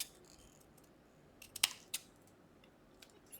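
Scissors snipping paper for a junk journal cover with a shadow box, a few sharp quiet cuts and clicks close by in an otherwise hushed room.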